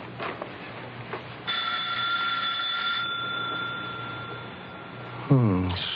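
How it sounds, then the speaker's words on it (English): A sustained electric doorbell rings steadily for a few seconds over a muffled, hissy background, with a low rumble and a brief musical sting at the end, in an old radio drama. "And as Mike rings her doorbell..."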